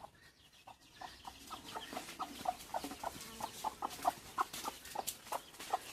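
Chickens cluck repeatedly in short, uneven bursts, moderately close, over a steady background hum with no talking.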